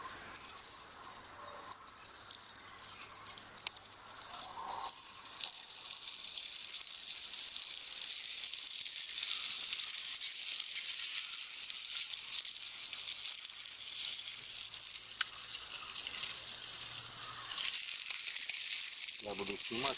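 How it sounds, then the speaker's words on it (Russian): Steady sizzling and crackling of pork lard frying in a stainless steel camping pan over a strong flame, a continuous hiss that builds slightly and then holds, with faint low hum beneath. "4 кусочка сала ставим на печку."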